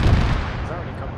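A dense, loud burst of gunfire in Arma on the island of Tanoa, rapid overlapping shots with heavy low rumble filling a short moment, no talk.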